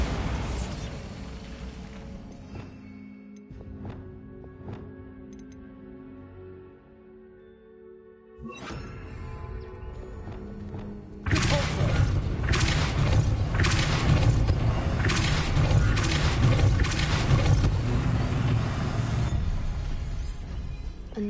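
Bombarda spell explosion in Hogwarts Legacy: quieter ambience gives way to a loud boom and rumbling bursts, then a sustained roar of debris and crackling that continues steadily to the end.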